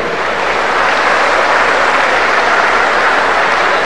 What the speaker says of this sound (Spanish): un aplauso para central Villa 14